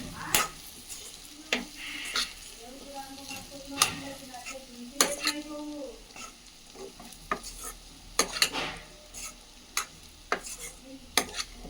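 A spoon stirring masala into an aloo carrot curry in a pan, sharp scraping strokes repeating at an uneven rhythm over a quiet, low sizzle, fairly soft and close, with no voices.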